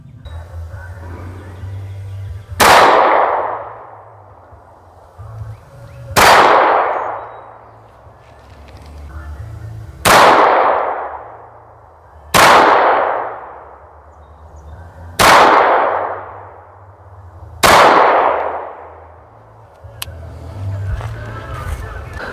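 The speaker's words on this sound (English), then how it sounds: "Going to put a couple rounds down there, see what happens, and adjust as needed." A Tisas B9R double-stack 1911 pistol fires five loud, evenly spaced shots at a target, each sharp crack decaying over a second or two against a quiet outdoor background.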